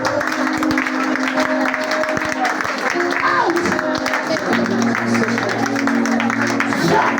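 A congregation at a church worship service claps and cheers steadily, a dense, continuous wash of applause with voices calling out and talking throughout.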